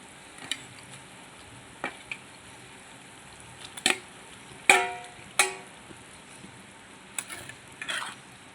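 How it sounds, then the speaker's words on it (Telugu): Marinated chicken with salt, turmeric and chili frying in a pan for stuffed capsicum curry, heard as a faint low sizzle broken by a handful of sharp spoon scrapes and clacks as it is turned. "ఒకసారి తిప్పుదామా"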